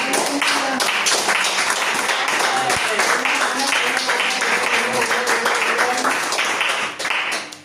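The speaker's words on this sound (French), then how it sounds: "Nous acclamons pour le placeur, pour le message qui nous a édifiés en ce jour." A church congregation claps and cheers for the preacher's message, dense sustained applause from a large crowd that fades out at the end.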